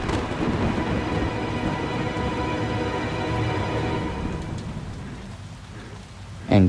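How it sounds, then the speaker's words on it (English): Steady rain falls with a dense, continuous hiss and patter, loud and close throughout, easing slightly toward the end before a brief louder burst at the close. "it began to rain"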